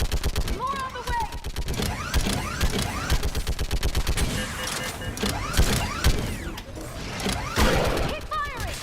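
Rapid gunfire from Mass Effect 3 Legendary Edition, sustained fusillades of automatic shots with sci-fi weapon whines layered in a loud, dense battle, while voices shout over the shooting.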